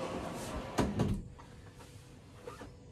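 Wooden drawers in a 2023 Nash 26N off-grid travel trailer's dinette slide open with a couple of close knocks and thumps, followed by softer rattles in a quiet interior.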